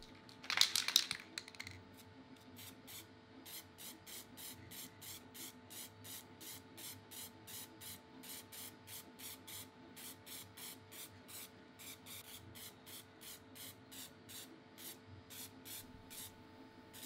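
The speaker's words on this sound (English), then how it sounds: "Then black spray paint is applied to the lettering and the logos." Black spray paint hisses from an aerosol can through a stencil onto a cardboard box in one strong opening burst, followed by a steady run of quick, regular rhythmic pulses from nearby machinery.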